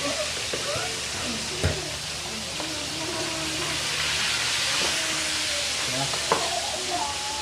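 Fish frying in a cooking pot, a steady broad sizzle with faint hiss running throughout, with occasional clinks and a voice speaking at times in the background.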